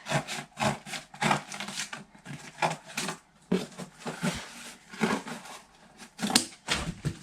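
Knife or blade cutting through a piece of excess cardboard from a box, a run of close, scratchy rasping strokes in an irregular rhythm, with short gaps between cuts.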